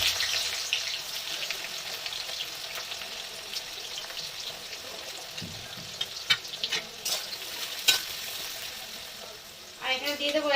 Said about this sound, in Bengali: পেঁয়াজটা একটু হালকা ভাজার অপেক্ষায় রইলাম